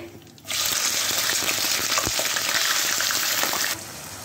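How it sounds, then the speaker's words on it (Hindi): Chicken frying in ghee, a sudden loud hiss as the pieces hit the hot fat, holding a dense close sizzle for about three seconds before dropping off sharply. "तो ये देखें हम जो है अब चिकन को फ्राई कर रहे हैं।"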